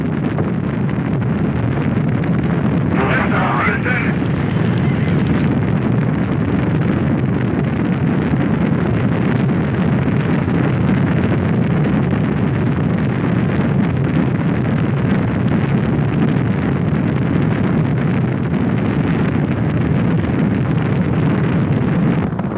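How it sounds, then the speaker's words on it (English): The first space shuttle launch: a massive, continuous low rumble roars without letup, a deep thunderous blast like a distant rocket launch, buffeted by wind. "we have liftoff of America's first space shuttle"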